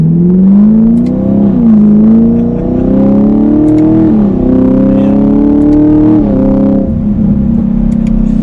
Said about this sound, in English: So then at a stop, we'll get up to some speed from 1st gear.